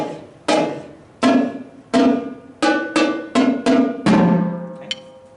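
Marching quad drums struck in a rhythmic pattern, a series of sharp resonant tom hits with ringing decay, some quick doubled strokes and a final rolled hit, close and alone.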